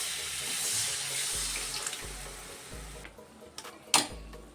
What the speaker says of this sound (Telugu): దీన్ని మంచిగా మిక్సీ జారు కడిగేసి వాటర్ వేసుకోవాలి